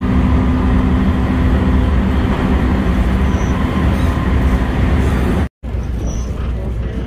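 Inside a JR 221 series train riding to Osaka, the carriage gives a loud, steady rumble with rail clatter and hum throughout, briefly cutting out near the end.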